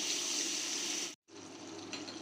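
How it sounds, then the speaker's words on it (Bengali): Water is poured into a cooking pot over fried onions and turmeric, a steady close gushing splash that stops briefly and then continues more softly. "দিয়ে দিচ্ছি পানি,"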